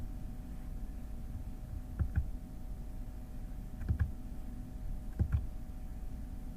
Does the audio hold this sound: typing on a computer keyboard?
yes